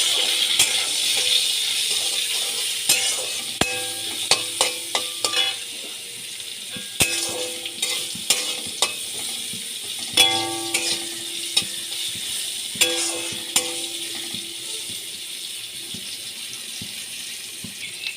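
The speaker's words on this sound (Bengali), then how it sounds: "নুন হলুদ দিয়ে আগে ভালো করে আমি ভেজে নিচ্ছি" Vegetables for shukto frying with salt and turmeric in a pan: a low steady sizzle under a spatula's scattered clinks and scrapes, close by, with no speech.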